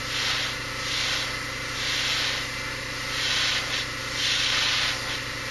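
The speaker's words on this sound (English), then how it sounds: "I'm spraying away from the piece, just using the very edge of that spray pattern" Steady hissing spray of an airbrush painting a plastic Gundam model kit, swelling and easing in gentle passes, close and continuous with no voices.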